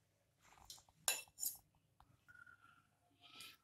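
Boiled elephant foot yam is moved into a bowl with utensils: scattered metallic clinks and scrapes of a spoon against dishware, close and fairly quiet.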